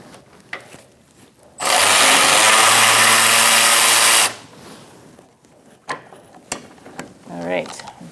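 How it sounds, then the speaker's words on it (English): A ratchet turning a 10 mm socket to remove a bolt from a 2002-2006 Honda CR-V engine bay during starter replacement, giving one loud, steady burst of about three seconds amid quieter clicks and handling noises. "We're going to use a 10 millimeter socket."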